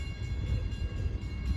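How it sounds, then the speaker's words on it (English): Long Island Rail Road train 558 bound for Oyster Bay rumbles toward the New Hyde Park Road crossing at evening rush hour, a steady low, heavy roar throughout. "approaching at 4:50 is train 558"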